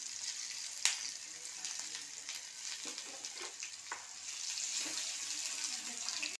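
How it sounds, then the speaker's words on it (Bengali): A small tomato, asafoetida and two green chillies sizzle in the oil left over from frying okra, giving a steady close hiss with a few sharp clicks and light clatters. "ভাজার তেলেতেই আমি একটা ছোট টমেটো, হিং আর 2টো কাঁচা লঙ্কা তুলে দিলাম।"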